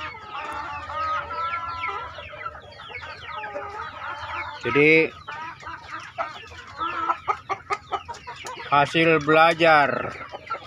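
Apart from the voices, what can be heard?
chickens clucking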